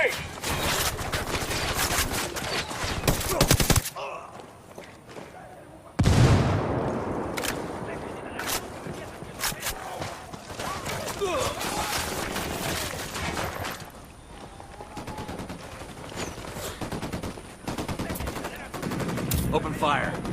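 Gunfire in the Ghost Recon Wildlands game comes in loud, dense bursts of automatic fire with sharp single shots, broken by a short near-silent gap, and voices speak during the firefight.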